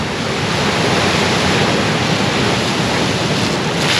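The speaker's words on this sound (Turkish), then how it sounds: "Daha yaklaşamadan dalgalar vurdu" Ocean surf roars where the Atlantic and Indian Oceans meet, a loud continuous wash of breaking waves mixed with heavy wind buffeting the microphone, steady and unbroken.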